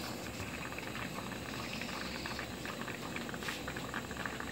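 Water boiling inside a homemade still built from a recycled thermos, a continuous bubbling and crackling simmer, steady and fairly quiet with no speech.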